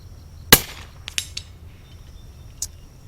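A rifle fired from a portable shooting table at a distant target, one sharp loud crack standing alone, followed by a few faint clicks and a softer report later on.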